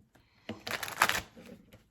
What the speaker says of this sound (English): let's do 3 more shuffles for Virgo.